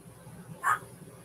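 A dog on a bed lets out one short, sharp bark at mid-distance, set against a quiet, low background hum.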